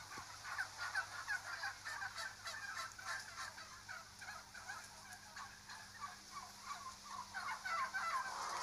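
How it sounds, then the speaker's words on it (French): Mass-produced farmed turkeys gobble in a dense, continuous chorus of rapid warbling calls, many birds overlapping in a reverberant shed with a low steady hum beneath. "Ces dindes ne ressemblent plus guère à celles qui vivaient autrefois en liberté en Amérique centrale."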